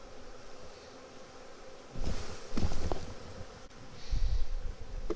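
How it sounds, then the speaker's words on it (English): Honey bees at an opened hive during a colony inspection, a steady low hum running throughout with a few louder rustling bursts of handling close by. "See a lot of bees."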